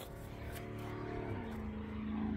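A pulling truck's engine runs steadily and fairly loud, a low droning rumble with a rising tone toward the end, heard up close with no one speaking.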